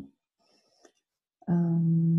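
A mobile phone alert sounds after a few faint blips, then a loud, steady two-tone electronic beep that holds without a break to the end.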